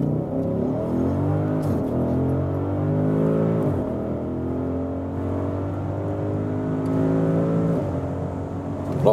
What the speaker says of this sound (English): let's just floor it out acceleration-wise and do some dynamic driving